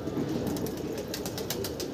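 A flock of about 65 pigeons flies overhead during a practice session, producing a steady fluttering wash of wingbeats with soft, repeated flurries. No voices are heard.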